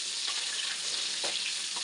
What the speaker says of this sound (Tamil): கட் பண்ணி எண்ணெயில் போட்டு நல்லா ஃப்ரை பண்ணிக்கணும்